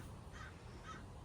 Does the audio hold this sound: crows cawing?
yes